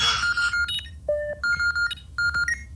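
Cheerful electronic beeps chime from a modded video game at the end of a tunnel, a quick string of short, bright tones of several pitches in broken rhythm, clear and close.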